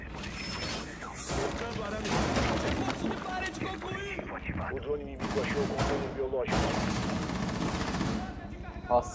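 Gunfire in the tactical shooter game Rainbow Six Siege, with dense bursts of rapid automatic shots rattling almost continuously, loud and close, broken by a brief pause before more firing.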